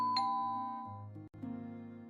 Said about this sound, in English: The doorbell downstairs suddenly rings.